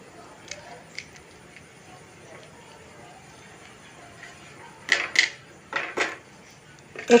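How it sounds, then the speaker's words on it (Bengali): A spoon scrapes thickened cream from the sides of a pan of simmering milk for kulfi. The start is quiet with faint scattered taps, then a cluster of sharp, close scraping strokes comes near the end. "ধারে ধারে যে মালাইগুলো লেগে থাকবে সেগুলো ছাড়িয়ে আমি আবার দুধের সঙ্গে মিশিয়ে দিচ্ছি"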